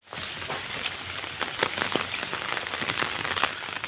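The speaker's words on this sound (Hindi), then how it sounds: "वर्षा प्रबल हो आज" Heavy rain pours down in a steady, dense hiss of drops striking surfaces, close and continuous, with a few louder splashes and no voices.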